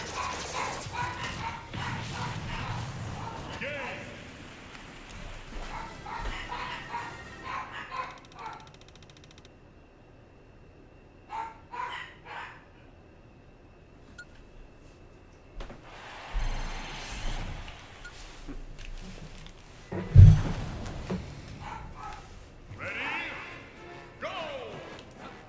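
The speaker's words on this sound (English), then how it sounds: "If the dogs continue, I'll pause for a second to take them outside." Household dogs barking in the background during a Smash Ultimate gaming session, scattered bursts of barks and yips across the stretch, sometimes close and loud, mixed with game sounds and someone talking.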